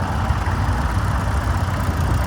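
Close, loud, steady low-pitched chugging from a vintage American-built Ford tractor engine with Ferguson hydraulics, idling evenly at a vintage rally tractor parade in Cupar, Fife, with no talking.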